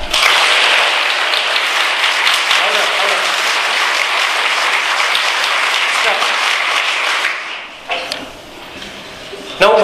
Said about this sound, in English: clap once. Start.